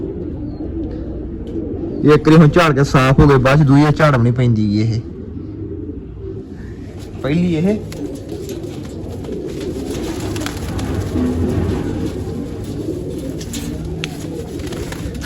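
Domestic pigeons coo in a loft amid steady low rumbling, with a burst of louder bird calls early on and someone speaking over much of the scene.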